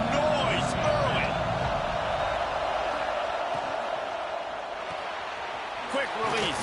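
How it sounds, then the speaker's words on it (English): A Tennessee vs Texas college football stadium crowd roars loudly and continuously, a dense wash of cheering and noise that swells early in the game, with occasional sharper bursts rising out of the din. "This crowd bringing the energy and noise early."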